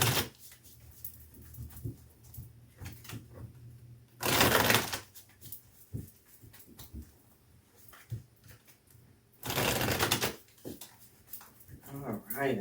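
Two loud bursts of tarot cards being shuffled break up a stretch of quiet talking, each riffle lasting about a second.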